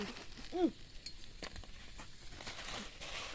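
Sun-dried bitter gourd frying in hot oil in a home kitchen, a soft steady sizzle with a brief stirring scrape near the start.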